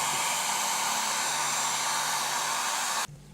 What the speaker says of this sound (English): use a hair dryer to make sticker more elastic and softer